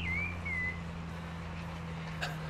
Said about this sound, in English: that bird is overwhelmingly the loudest thing here